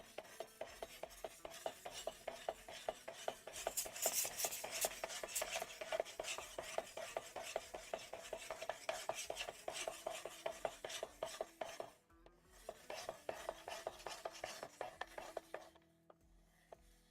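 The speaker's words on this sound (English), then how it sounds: "sand and get the burr to the other side" A knife blade is sanded to push the burr over to the other side, giving steady, close scraping and rasping strokes in a continuous rhythm with a couple of brief pauses near the end.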